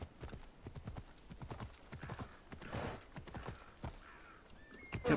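A horse in the video game Assassin's Creed Odyssey clip-clops along at a steady trot, its hoofbeats even and close throughout, with a brief higher cry near the end and no talk.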